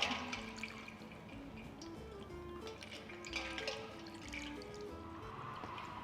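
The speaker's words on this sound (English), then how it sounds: "we want to strain that liquid out again" Liquid straining from cooked eggplant squeezed in a nut milk bag, faint trickling and dripping into a bowl, quiet and continuous at close range with no voices.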